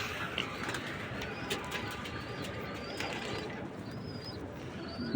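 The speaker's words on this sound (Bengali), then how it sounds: "সব মায়েরা বসে আছে খাওয়ার জন্য তাহলে খাবার দিই কবুতরকে" Pigeons coo steadily in a loft at morning feeding time, a soft continuous murmur of calls with faint chirps over a constant noisy background.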